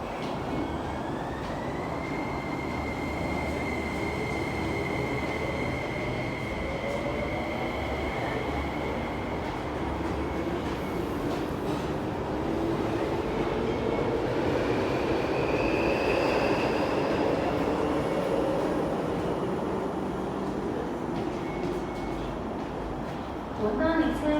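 A train rumbles steadily through Tai Shui Hang Station at close range, with a long metallic whine and faint wheel squeal riding over the continuous low roar.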